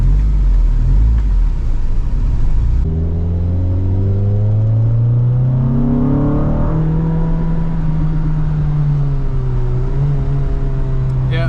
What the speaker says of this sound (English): First test drive in a while. Let's see if it'll go in gear still.